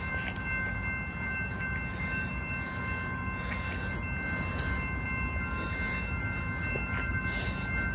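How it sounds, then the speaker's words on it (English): BNSF freight train rolling past close by, a loud continuous rumble with steady high tonal squeal lines and periodic clatter bursts from the cars throughout. "Here come my BNSF."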